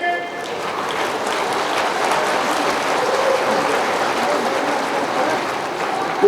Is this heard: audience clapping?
yes